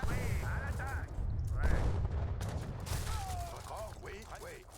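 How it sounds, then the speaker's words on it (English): Mortar and artillery fire booms repeatedly in an Age of Empires III battle during the Seven Years War, with dense explosive thuds and crashes layered under game sound effects and voice-like unit calls. "mortars doing a great job"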